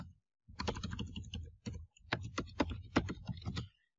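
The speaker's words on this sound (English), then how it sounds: "we're going to type in the name of the address" Rapid keystrokes on a computer keyboard as an address is typed, close and clear, in several bursts with brief pauses between them.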